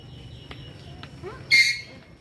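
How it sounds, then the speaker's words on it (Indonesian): A white cockatoo at a zoo lets out one loud harsh shriek near the end, preceded by faint chirps and soft background murmur. "oh ini kakak tua putih kan"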